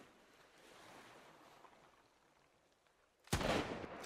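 A gunshot rings out in the Sunkenland survival game. Soft wind and surf fill the quiet stretch before one sudden, loud, sharp shot near the end, and its echo tails off afterward.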